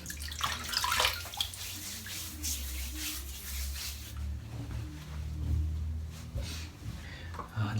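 Water runs steadily from a bathtub tap to wet a head before a shave, a continuous close splashing rush that swells and eases slightly throughout, with no talking.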